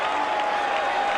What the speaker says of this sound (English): The roar from the crowd as it comes off the side of the boot from Stedman